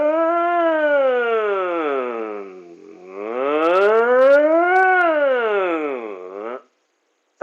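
A continuous test tone sweeps smoothly up and down like a wailing siren, loud and steady, picked up by a Bluetooth earbud microphone paired with a Motorola G5S Plus smartphone, then cuts off abruptly.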